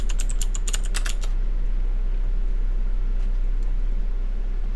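A burst of quick computer keyboard clicks and taps close up for about a second, then a steady low hum with a couple of faint clicks.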